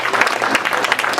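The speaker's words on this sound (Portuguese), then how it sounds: "Aplauda o Senhor para a vida do céu." A church congregation at an anniversary service applauds a visiting pastor, a brief, dense wash of many hands clapping, fairly loud and steady with no gaps.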